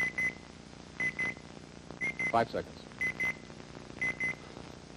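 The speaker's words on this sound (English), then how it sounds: "Ooh, there goes the buzzer. There goes the buzzer." The 1989 game show Now You See It plays a repeating electronic beep pattern, paired double beeps about once a second, fairly loud, while a voice talks over it.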